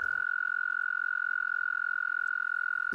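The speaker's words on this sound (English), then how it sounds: "They trill, making the song." Male toads trilling in spring, a single steady high-pitched trill held without a break for the whole stretch, clear and fairly close, with no voices.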